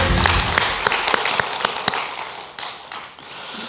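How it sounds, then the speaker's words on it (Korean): A church congregation applauds at a Korean worship service, giving praise after singing; scattered, uneven claps and taps sound near and fairly loud, thinning toward the end with no talking. "우리 하나님께 영광의 박수 올리겠습니다."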